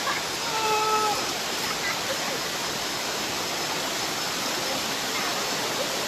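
Waterfall in Ulu Yam, Selangor, pouring as a constant dense roar of rushing water, steady and close, with brief faint tonal chirps near the start.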